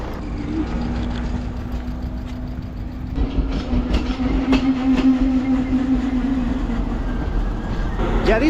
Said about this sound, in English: these trains are in bad shape